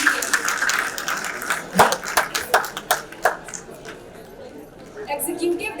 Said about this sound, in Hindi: जोरदार तालियां हो जाए गांधी छोटी जी के।